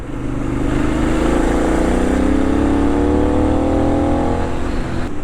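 A motorcycle with a straight-pipe exhaust and its catalytic converter removed revs loudly and close, its engine note climbing steadily in pitch over several seconds with no talk.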